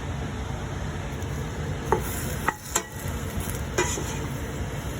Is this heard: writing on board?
no